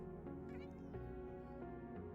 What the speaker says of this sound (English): Oh, I can hear Persephone meowing.